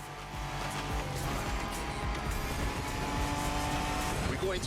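Ford Bronco boosting through open-world Hawaii in The Crew Motorfest, a loud steady engine roar with rising tones and faint tire noise running throughout, with a voice talking over it.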